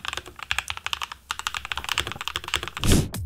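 Rapid, fairly even clacking of keys on a custom computer keyboard, dense irregular keystrokes close to the microphone, ending with a louder thump near the end.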